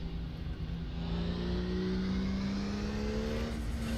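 Close-up engine of a Porsche 934 RSR Turbo race car in the RaceRoom sim racing game at Spa, climbing through its revs, a steady rising mechanical drone that builds in pitch over a few seconds.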